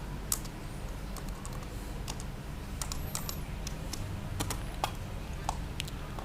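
Steady keyboard typing while entering AutoCAD commands, with quick irregular key clicks over a low constant hum and no speech.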